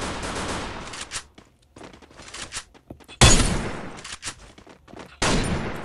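Gunfire from a gun in Free Fire, loud bursts of rapid automatic shots separated by brief gaps, close and punchy, with no talking.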